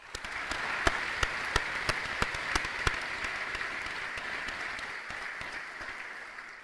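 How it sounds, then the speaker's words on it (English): A high school awards ceremony audience gives steady, even applause throughout, with a few sharper individual claps standing out near the start, fairly distant in a large hall. "So please join me in a round of applause."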